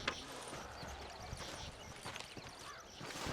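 Horse hooves clip-clop steadily in the Red Dead Redemption video game, a soft, fairly quiet rhythmic trot over ambient outdoor game sound.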